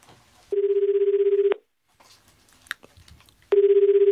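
An outgoing phone call rings back with a buzzing tone in one-second bursts separated by about two seconds of quiet, clear and close. Faint rustles and clicks fill the gap.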